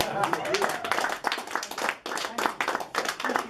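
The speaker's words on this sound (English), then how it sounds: "Let's give him a round of applause" A presentation audience claps in irregular bursts, with a voice talking over the uneven applause.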